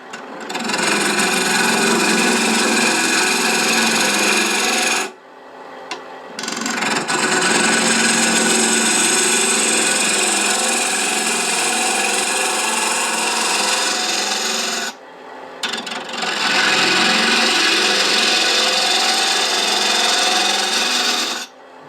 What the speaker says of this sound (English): using a 1/2 inch spindle gouge, cutting right on center